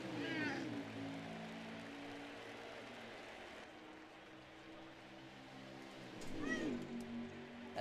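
A pet cat meows twice, a drawn-out cry near the start and another toward the end, close and clear over a steady low hum from a racing broadcast.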